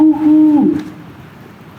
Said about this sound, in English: The owl's call came closer from high up in the trees